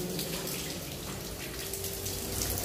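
Water trickling steadily out of rock at the Jama Masjid Hauz in Mumbai, a faint continuous splashing flow with no talk.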